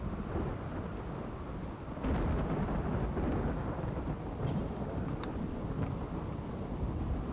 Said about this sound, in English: at least it gets put out by the mercy rain that accompanies the thunder